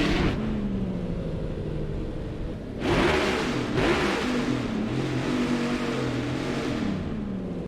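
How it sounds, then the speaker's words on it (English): Next Gen 2.0 stock car from NASCAR Heat 5 revving on track with a five-gear mod, engine droning and climbing in pitch, with a sharp upshift near the midpoint and the rising whine continuing after it. "Let's listen to this thing."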